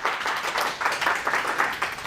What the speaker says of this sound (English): So everyone, a big round of applause for saving us, making this happen.